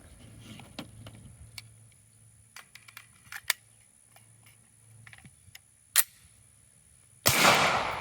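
An FK Brno 10 mm pistol goes off in one sharp, loud report near the end, after several seconds of small handling clicks and ticks in quiet surroundings.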